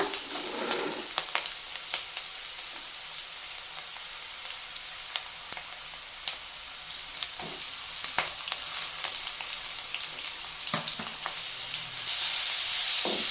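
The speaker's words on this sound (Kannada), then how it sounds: "ಈ ಕ್ಯಾರೆಟ್ ಹಾಕ್ಕೊಳ್ಳೋಣ." Carrot frying in a pan of hot oil, a continuous close sizzle with scattered stirring clicks and spatula scrapes, the hiss swelling louder near the end.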